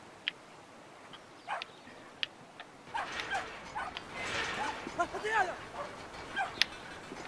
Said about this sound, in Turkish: Ben şimdi o köpeği bir serbest bırakayım da.